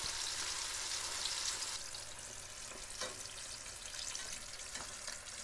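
Fish fillet pieces fry in hot oil, a constant bright hissing sizzle with a few soft knocks, heard close up and without speech.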